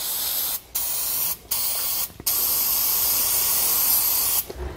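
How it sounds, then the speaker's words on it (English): Penetrating oil sprayed from an aerosol can onto rusty U-bolt hardware on a Dexter trailer axle, heard as close, loud hissing bursts with a few short pauses between them. "We're going to spray it down with penetrating oil."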